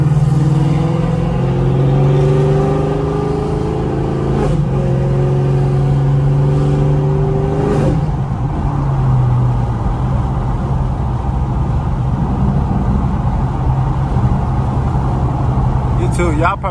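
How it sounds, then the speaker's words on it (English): A 2016 car engine, with a check engine light on, runs loud during a late-night drive, its steady rumble and shifting tones holding throughout. "Hey, my car always loud, and it's late at night."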